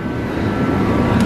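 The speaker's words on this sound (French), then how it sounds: "Allez, dernier shoot, on va terminer au drone." A drone flies close by during an evening shoot, giving a steady, loud broadband whir with a continuous engine-like drone and no talk over it.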